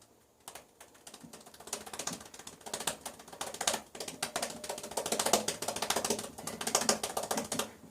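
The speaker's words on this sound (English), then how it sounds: "when I start running out of soap, I'll tease that soap with my jawline like this" Shaving brush whipping and lathering soap against the jawline, a dense run of quick wet scrubbing and clicking strokes that builds steadily and stays close and fairly loud throughout, with no voices.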